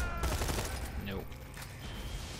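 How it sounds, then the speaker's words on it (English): An assault rifle fires in the game Borderlands 2, a rapid burst of shots at the start followed by scattered game effects, fairly quiet with players talking over it. "Dude, this assault rifle is ridiculous."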